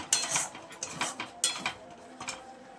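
Cooked dal with bottle gourd being ladled from a cooking pot into a bowl, heard as a series of sharp metal clinks and scrapes of a spoon against the vessel, close and fairly quiet, with no speech.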